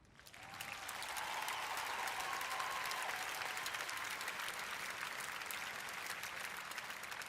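Large audience at the Invictus Games Orlando opening ceremony bursts into sustained applause and cheering, swelling in the first second and holding loud and dense throughout.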